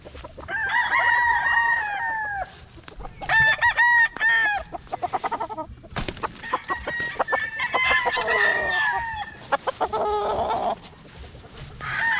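A young Yogurt Gray gamecock stag crowing loudly and close up, several ragged crows mixed with bursts of clucking and short calls, with no voices.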